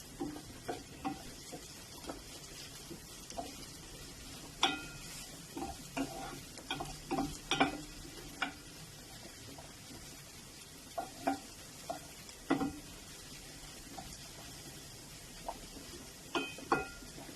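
Food for a tagine stirred in a pan, sparse scraping and tapping knocks of a utensil against the pan over a faint sizzle, irregular and fairly quiet with no talking.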